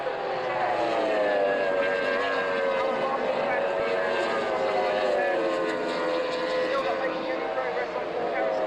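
A Formula 2 racing powerboat skims through a turn at Fairford, its engine a steady, droning whine that rises and falls slightly in pitch, heard at a moderate distance while a commentator talks over it.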